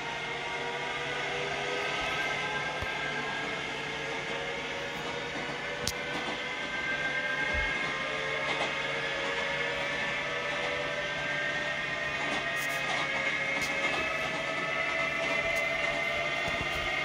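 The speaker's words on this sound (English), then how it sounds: "this is the New York subway" A New York subway train in a train simulator video game runs with a steady, loud rolling rumble and gliding motor whine, plus occasional brief clanks.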